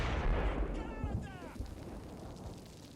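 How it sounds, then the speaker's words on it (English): Hand grenade going off in the Normandy war game Combat Mission: Battle for Normandy, a deep booming blast that rolls away into rumble, moderately loud, with brief voices nearby. "Hand grenade lob over here."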